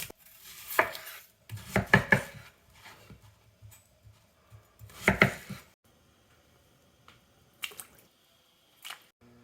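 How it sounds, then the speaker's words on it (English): A whole onion being quartered with a kitchen knife on a cutting board: several sharp, close chopping knocks come in scattered bursts, with quiet pauses between the cuts. "We're gonna quarter a whole onion."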